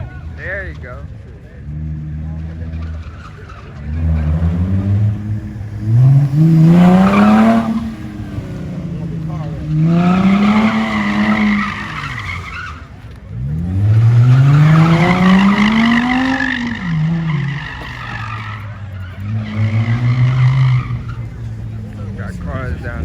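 Cars doing burnouts and drifts at a street car meet, engines revving and swooping up and down in loud repeated surges with tire squeal, close by, while people talk over the noise.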